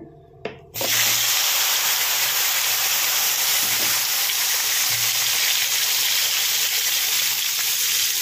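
Eggplant hitting a little hot oil for dudh sukto, a sudden loud burst of hissing sizzle after a quiet moment, then sustained strong, even frying close by.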